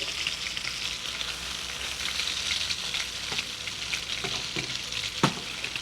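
Chicken sizzles steadily in a hot non-stick pan, a constant crackling hiss, with a few utensil scrapes and one sharp clink near the end.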